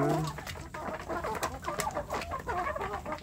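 Young kampung chicks and hens cluck and peep busily at close range during feeding on an overcast afternoon, overlapping chirps and clucks throughout with no talk.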